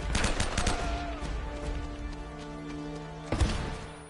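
Video-game gunfire in Uncharted: Drake's Fortune, with a rapid burst of automatic shots at the start, then ringing tones and another sharp shot near the end, loud and close.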